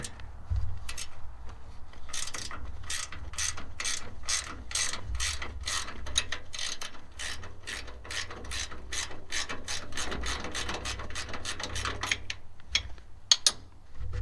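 Ratchet wrench loosening a 13 mm fastener on a Tajfun firewood processor, a close, loud run of quick clicking pawl strokes in rapid bursts with brief pauses between turns.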